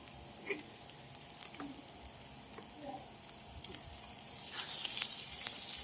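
Onion sizzles in a pan with garlic already browned, a faint, close crackle with a few soft stirring knocks that grows into a louder, brighter hiss near the end.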